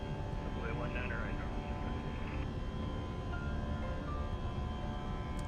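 A United airliner departing in a flight simulator, steady engine roar sustained throughout, with radio chatter and faint tones layered over it.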